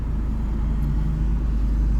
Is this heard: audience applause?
no